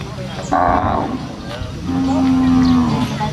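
Cattle moo with a long, loud low call at a busy Sunday cattle and buffalo market in Thailand, set against crowd noise and nearby talk.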